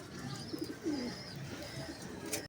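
Pigeons cooing softly at close range, with one or two low, rolling coos standing out from a faint, steady background.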